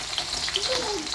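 Onions frying in hot oil with cumin and mustard seeds in a pan, a steady, moderately loud sizzle with a faint stirring scrape.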